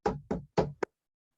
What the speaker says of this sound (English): she went to one house and knocked on the door.